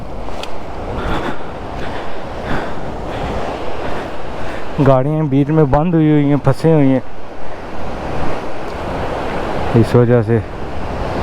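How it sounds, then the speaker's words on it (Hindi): Water rushing across a road crossing by a river in the mountains at dusk, a constant broadband wash mixed with wind buffeting the microphone, while someone talks close by and engines pass. "इधर तो पूरी समुंदर क्रॉसिंग है। अब मैं पानी के बीच में से चल के जा रहा हूँ"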